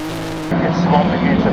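Race cars in a 2021 Improved Production race at Baskerville launch hard off the start line; after a quiet half second, a loud, dense engine roar bursts in and holds steady, close and continuous.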